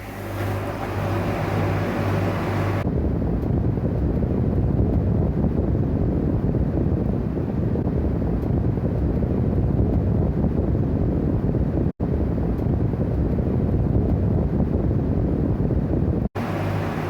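A Zanussi ZPAC9002 portable air conditioner kicks into cooling mode, its earlier tone giving way to a loud, steady whoosh of fan and airflow. The noise holds constant, broken only by two brief dropouts.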